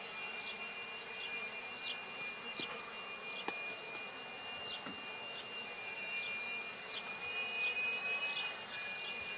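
Honeybees buzzing around an open hive during a honey harvest check, a steady insect drone with individual bees whizzing past close by.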